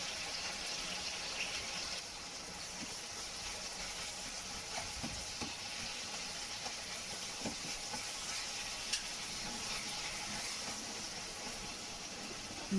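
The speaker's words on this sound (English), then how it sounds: "continue to saute my tomatoes and red pepper" Tomatoes and red pepper sautéing in a pan for an aubergine dish, a soft steady sizzle with faint occasional stirring clicks, quiet and continuous with no talking.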